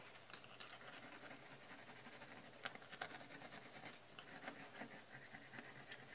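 Colored pencil scratching and rubbing on an art journal paper page, a soft, steady, close rasp with small strokes throughout, quiet and alone.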